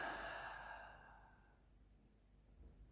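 A single soft, slow exhale that fades over about a second and a half into near silence, close and faint.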